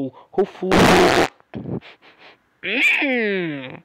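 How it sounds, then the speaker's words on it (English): A cartoon skeleton lets out a loud, sputtering fart while in a swimming pool, a short burst between bits of cartoon dialogue and a high, warbling voice. "did you just fart in the pool?"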